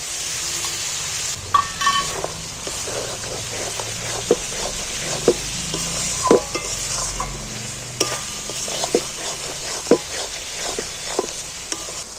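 Chicken masala with ginger paste being stirred and fried in oil in a pan, a low steady sizzle punctuated by sharp spoon clinks and scrapes at irregular intervals, close and clear.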